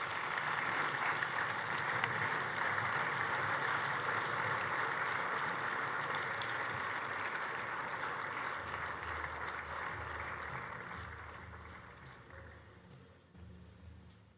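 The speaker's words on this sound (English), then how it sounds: "please join me in rising in a final round of applause" An audience in a summit hall gives a long, dense round of applause for the opening ceremony, steady and full before gradually thinning and fading out, with a low engine-like hum beneath toward the end.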